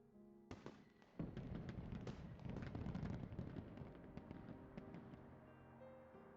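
Fireworks crackle and pop continuously, a dense rumbling barrage of bursts after a sharp opening bang, heard from a moderate distance.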